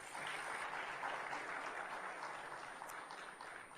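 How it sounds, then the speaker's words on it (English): An audience at a Commonwealth high-level event on violence against women and girls gives a soft, steady round of applause, faint and distant and holding evenly throughout. "Please give a round of applause."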